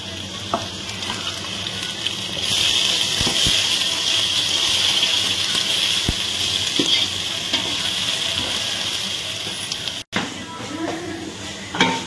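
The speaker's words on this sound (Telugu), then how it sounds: "అల్లం పేస్ట్ వేసాక 2 సార్లు ఇట్లా కలుపుకొని తర్వాత టమాటా వేసుకోవాలి." Ginger-garlic paste sizzles loudly in a hot pan, a steady bright frying hiss with occasional scrapes and clinks as it is stirred, close up and continuous.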